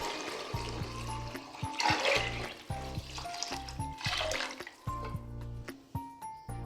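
Two litres of water poured into a pot of rice and lentils, splashing and trickling in uneven bursts over several seconds amid faint kitchen clatter.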